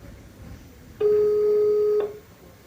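A telephone call that goes unanswered gives one steady electronic tone lasting about a second, loud and clean over quiet background hiss, then cuts off.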